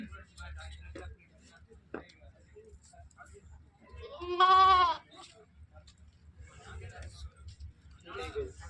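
A goat at a village livestock sale gives one loud, close bleat midway, with quiet talk and murmuring before and after.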